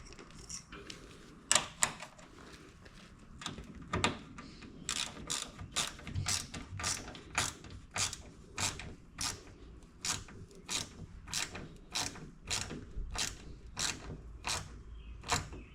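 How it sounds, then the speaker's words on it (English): A ratchet tightens door armor bolts on a Jeep XJ, its pawl clicking in quick, even bursts of strokes that repeat close to the mic for the whole stretch, with a few sharper knocks near the start. "Now we'll tighten these up."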